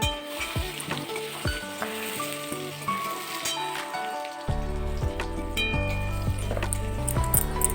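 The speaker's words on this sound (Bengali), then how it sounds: "তো আজকে বড়িটা ভাজছি।" Sun-dried lentil dumplings (bori) lightly rubbed with salt and sugar frying slowly in oil, a steady close sizzle with scattered pops that thickens into a louder, denser crackle partway through.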